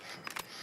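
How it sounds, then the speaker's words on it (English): A weapon is reloaded in a battle royale video game, heard as two quick, faint mechanical clicks in close succession against quiet background hiss. "I'm reloading."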